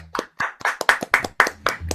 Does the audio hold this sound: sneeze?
no